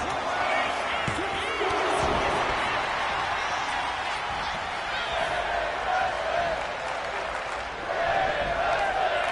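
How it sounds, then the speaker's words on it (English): A wrestling arena crowd cheers and roars continuously, a dense wash of voices with scattered shouts and thuds, rising and dipping slightly throughout. "I'm trying to hear what that crowd says."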